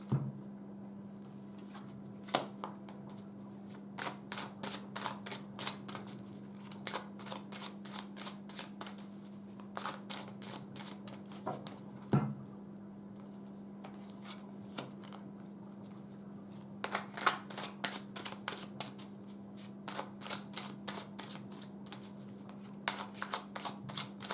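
Tarot cards are shuffled and drawn, bursts of quick riffling card flutters repeating close by over a steady low hum, with short pauses between bursts.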